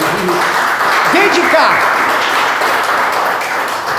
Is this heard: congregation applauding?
yes